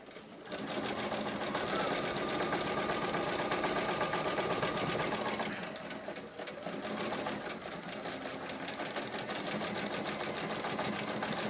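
Domestic sewing machine backstitching over elastic ear loops on a fitted fabric face mask with noseband and filter pocket: a close, steady mechanical whir runs throughout, briefly easing in pace midway before resuming.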